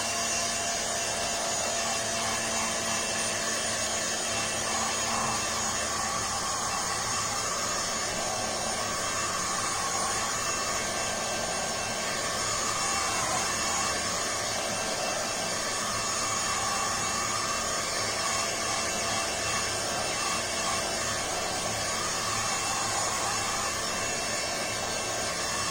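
A hair dryer blows steadily and loudly throughout while drying a decoupage glass bottle, a continuous unbroken whir with no voices.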